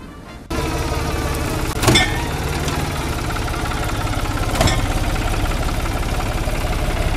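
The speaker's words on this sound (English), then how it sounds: "Trucks and tractors pull up to the co-op, dumping loads of fresh harvested grapes into giant crushers" Truck and tractor engines idle with a low, steady rumble at a grape co-op during the harvest. The sound starts abruptly, and two brief louder surges or clanks come through over the continuous drone.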